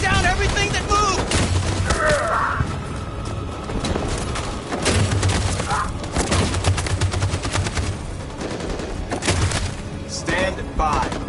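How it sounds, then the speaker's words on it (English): Machine gun fire in a video game battle, rapid repeated bursts and scattered shots over a steady din of combat, fairly loud throughout. "That machine gun has taken down everything that moves!"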